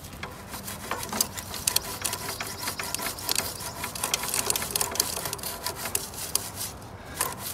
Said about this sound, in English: I'm going to take another brush and I'm going to brush in on the sprocket